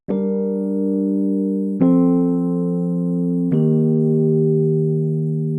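Three sustained Rhodes electric piano chords, each struck and left ringing with a mellow, warm tone, played alone at a slow even pace.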